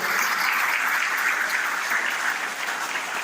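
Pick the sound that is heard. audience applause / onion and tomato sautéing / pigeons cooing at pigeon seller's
audience applause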